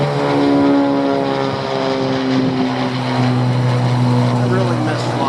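Propeller airplane passing overhead with a loud, steady engine drone and a slowly shifting pitch throughout, sounding fairly close.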